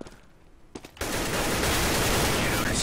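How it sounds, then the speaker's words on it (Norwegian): Gunfire in a Counter-Strike: GO match, a dense sustained burst of shots that starts abruptly after a quieter first second and stays loud to the end, with faint commentary underneath. "Får 2 fine skudd, da!"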